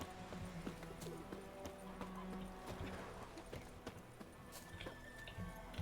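Roach the horse's hooves clip-clop steadily in a snowy Witcher video game, a continuous rhythmic trot heard up close over ambient game sound, with an occasional faint whinny.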